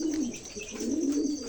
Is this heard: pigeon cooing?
yes